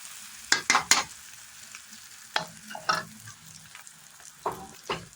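Chow mein with tomato sauce is stir-fried in a pan, with bursts of scraping spatula strokes and brief sizzles separated by quiet gaps, close and moderately loud.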